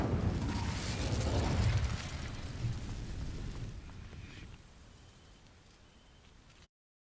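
Fire spell Incendio igniting dry vines in Hogwarts Legacy: a loud whooshing burst of flame that crackles and roars for a couple of seconds, then fades into a softer hiss of burning before cutting off.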